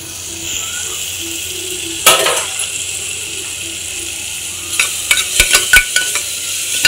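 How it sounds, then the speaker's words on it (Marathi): Ginger garlic paste stirred in a frying pan over a low steady sizzle, with a sharp spoon scrape at one point and a quick run of spoon clinks against the pan toward the end. "चांगलं ढवळून घेऊया"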